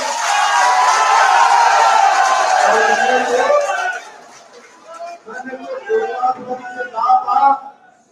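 A Congress political rally audience in Rajasthan claps and cheers loudly and densely for about four seconds, then the applause dies away into scattered voices and murmurs.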